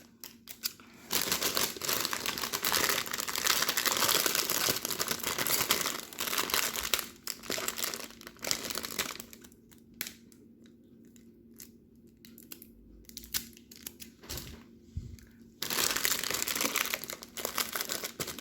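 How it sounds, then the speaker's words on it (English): Tape is pulled and pressed down to secure gift wrapping on a homemade Valentine's gift basket, heard as loud crinkling and rustling of wrap and cellophane in bursts, with a quieter stretch in the middle. "And we'll get some tape. And just secure it."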